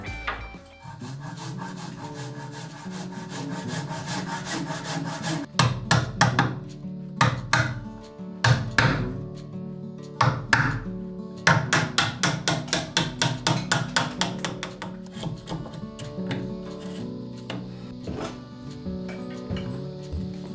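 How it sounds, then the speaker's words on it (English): A chisel is hammered to cut a triangular mortise in a wooden kamoi lintel for a Japanese-style room: close, sharp mallet strikes come in quick bursts and runs, mixed with scraping and paring of the wood. "I'm cutting this mortise in a triangle shape."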